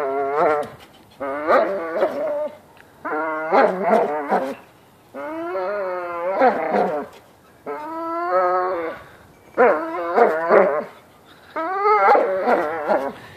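Close by, a pitbull/Labrador mix whines and groans while tugging a rope, in repeated strained bursts, about seven of them, separated by short quiet pauses.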